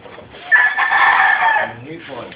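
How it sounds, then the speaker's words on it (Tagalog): Laying hens cluck in a farm flying pen, a loud, close burst of fowl calls lasting a couple of seconds. "Ito yung mga babaeng nangingitlog."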